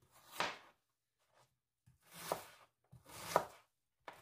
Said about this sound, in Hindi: आधा प्याज लेंगे और इसे भी छोटा छोटा काट लेंगे।